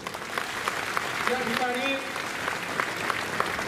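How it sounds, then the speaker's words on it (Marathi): A gathered audience at a political party induction claps steadily, a dense spread of applause under someone speaking into a microphone. "सगळ्यांनी एकदा जोरदार टाळ्या वाजवून"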